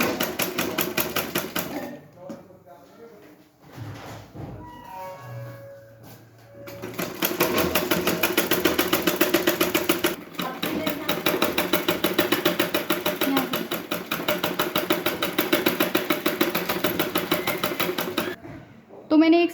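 A sewing machine stitches a blouse sleeve seam, running in fast steady bursts with brief pauses and a stretch of quieter handling in between, close and loud, with no talk over it.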